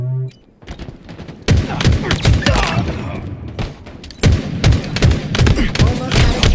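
Rapid bursts of rifle hip fire from Halo Infinite crackle in close, repeated volleys, with booming impacts and a brief quiet gap before the shooting resumes loudly.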